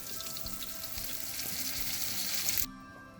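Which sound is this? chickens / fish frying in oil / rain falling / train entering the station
fish frying in oil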